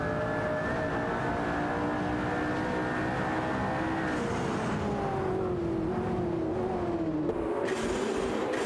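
A McLaren and a Lamborghini Murcielago race side by side in a racing video game, their engines holding a loud, continuous high whine that bends in pitch as they accelerate. No one speaks.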